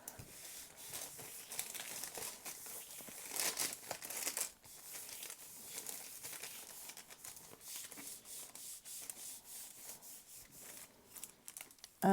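A sheet of paper is handled and laid onto a gel printing plate, giving quiet, close crinkling and rustling that continues with small irregular bursts throughout.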